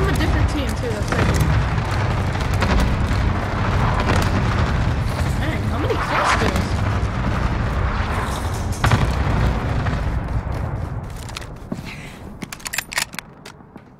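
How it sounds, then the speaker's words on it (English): Cluster strike explosions in Call of Duty: Modern Warfare Warzone: a dense, loud barrage of booming blasts rumbling almost continuously, tapering off toward the end with a few sharp pops, with voices talking over it. "Enemy cluster strike."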